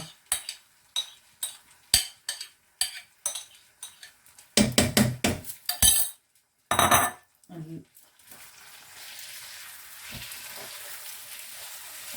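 White lentils (maash) pour into a cooking pot with sharp rattling clatters, followed by a spoon scraping and stirring against the pot, then a steady low sizzle settling in underneath; close and fairly loud.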